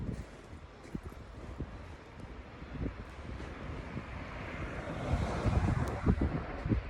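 Low, steady wind roars faintly through a Connecticut snowstorm on a city street, gusting slightly stronger toward the end with no voices.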